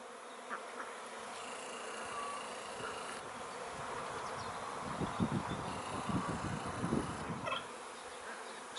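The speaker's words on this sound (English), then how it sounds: "now we seem to have like a crazy swarm going on" Honey bees swarm outside a freshly opened beehive on a homestead, a continuous dense buzzing hum with individual bees droning louder as they pass close by.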